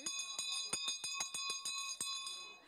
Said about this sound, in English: I feel like I'm going to ring the bell now too.